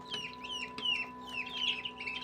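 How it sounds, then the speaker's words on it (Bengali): Fifteen-day-old Chinese ducklings kept in a basket at a farm give a run of high, thin, rapidly repeated peeps, close and busy with no talking. "আমার ছোট্ট চীনা হাঁসের বেবিরা"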